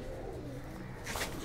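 A Ferozpuri and Faqeergull mix pigeon hen in a loft, low throaty cooing throughout at a faint level, with a brief brighter rustle near the end.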